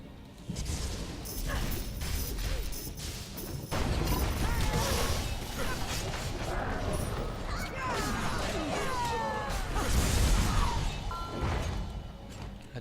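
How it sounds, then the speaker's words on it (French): Door mechanism opening in the video game Devilian, a long grinding, creaking and clanking sequence with thuds and ratcheting, fairly loud and continuous, with game effects and a voice speaking over it. "La dernière porte est ouverte."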